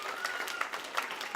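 Audience applause for a public library at a children's summer reading event, a short burst of scattered clapping from a modest crowd with a voice speaking briefly over it.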